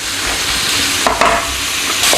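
Steady, loud sizzling of pork frying in a pan, a continuous hiss with a couple of brief stirring scrapes.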